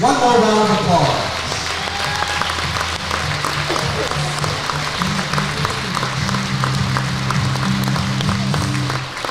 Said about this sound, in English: Let's give these ladies and their parents one more round of applause.